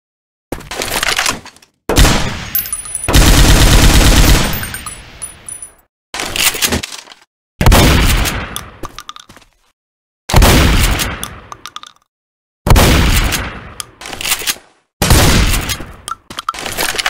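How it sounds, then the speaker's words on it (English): A full-auto shotgun in the video game Left 4 Dead 2 fires in loud, punchy bursts separated by silent gaps. One longer sustained volley comes early and about six shorter bursts follow, each with a metallic ring-off. "Full auto shotgun."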